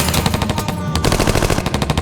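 Rapid machine gun bursts and gunshots crackle loudly and continuously in a crime reenactment, shots rattling in quick even rhythm with a brief gap midway.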